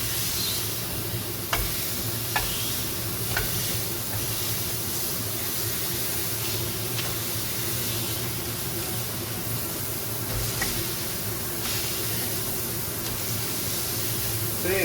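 A smashed beef patty with onion fries on a hot griddle, giving a steady, loud sizzle throughout, broken by a few sharp taps and scrapes from the smasher.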